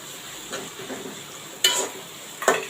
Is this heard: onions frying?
yes